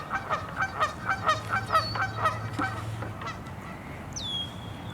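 Geese near their nest at a pond honk in a rapid, insistent series of loud calls close by as people approach, then quiet down, leaving a low hum and a distant squeak.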